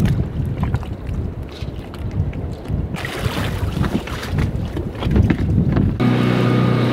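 A small dinghy heading to shore under heavy wind buffeting, with water rushing past and a steady low motor rumble throughout.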